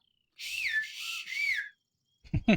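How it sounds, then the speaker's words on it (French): A short series of bright whistled notes sliding up and down in the video game The Longest Journey, followed by a brief burst of other sound at the end. "Peux-tu siffler?"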